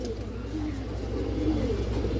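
Female Muslim pigeons, a red-speckled makra variety, coo softly and continuously at close range, their low murmuring calls swelling slightly toward the end over a steady background hum.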